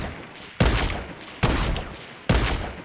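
Sniper rifle shots in Fortnite Battle Royale, three loud, sharp cracks spaced under a second apart, each with a brief decaying tail, no talking over them.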